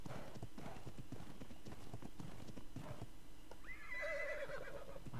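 Horse hooves clip-clopping in a steady rhythm through ARK: Survival Evolved gameplay, then a clear whinny rising near the end, fairly close and loud over a busy game soundscape.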